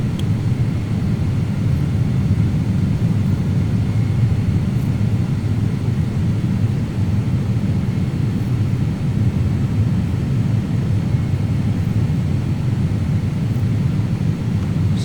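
A Boeing 767 airliner in a flight simulator, its jet engines giving a steady, loud low rumble with a constant airflow hiss, unbroken and alone for the whole stretch.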